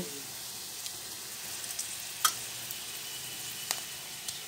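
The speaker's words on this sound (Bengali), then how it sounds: "এই ডালের বড়িগুলোকে এরকম ভেঙে ভেঙে আমি তেলের মধ্যে ছেড়ে দেব" Broken lentil badi fry in mustard oil in a kadai with a soft, steady sizzle and a few faint pops and clicks, quiet and without talk.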